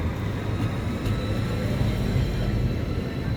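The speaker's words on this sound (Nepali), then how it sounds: "ल अर्को ट्रेन आयो" An electric train arrives in Lisbon with a continuous low rumble and rolling hum. The noise holds steady and fairly loud throughout, with no voices over it.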